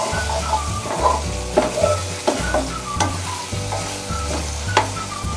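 Masala paste for Hyderabadi stuffed brinjal curry sizzles steadily in a hot pan while a spoon stirs and scrapes through it in repeated strokes, close and continuous, with no talking.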